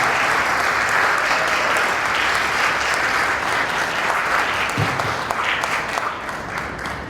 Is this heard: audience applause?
yes